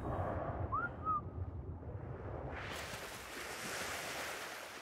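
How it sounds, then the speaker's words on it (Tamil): Water in ARK: Survival Evolved on the Ragnarok map (PC) makes a steady rushing wash. It starts muffled as if underwater, with a brief whistling tone, then turns to a brighter, fuller splashing surge. "தண்ணி சவுண்டு ரொம்ப அதிகமா இருக்கு"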